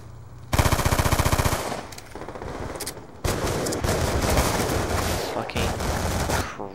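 Rapid automatic gunfire from the video game Black Ops 2 comes in long, loud bursts, with one sustained stream followed by a second dense, clattering barrage.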